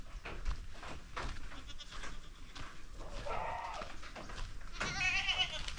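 Goats bleat repeatedly at close range on a farm in the Philippines, overlapping calls from several animals rising and falling among rustling farmyard noise, with no clear speech.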